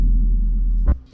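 A deep booming impact effect in a K-pop style beat, a sustained low rumble that ends with a short thud, loud and alone.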